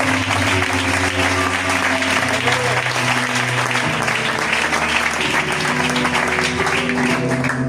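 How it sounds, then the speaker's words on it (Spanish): Loud, sustained applause from a church congregation, with sustained musical tones underneath and some voices mixed in, holding steady throughout. "¿Cuántos dan un fuerte aplauso a nuestro Dios?"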